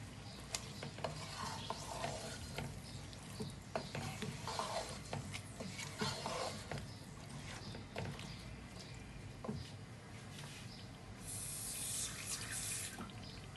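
Water pours steadily into a cooking pot of tomatoes, green chillies and potatoes for aloo baingan sabzi, a continuous close splashing and gurgling with small clinks throughout.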